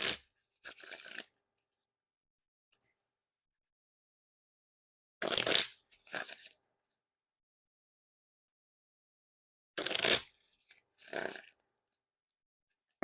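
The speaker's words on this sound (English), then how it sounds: "And now time for the riffle shuffle or bridge shuffle." Riffle shuffles of Blue King Slayer playing cards by Ellusionist, three bursts of brisk close-up card riffling, each followed by a short bridge snap, with silent pauses between.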